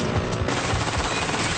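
Heavy weapons firing in rapid succession, a dense continuous barrage of loud booming shots with no gaps, close and powerful.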